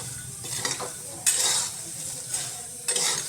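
Dry-roasted Kabuli chickpeas are stirred in a hot pan, with a scraping, rattling stir that comes in several bursts over a soft background sizzle. The sound is close and moderately loud, and no one speaks.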